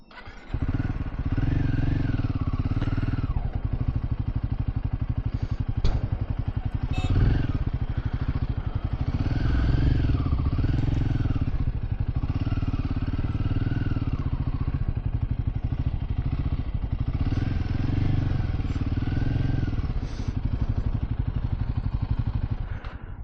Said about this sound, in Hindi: चलो अब यहाँ बाइक पार्क करते हैं।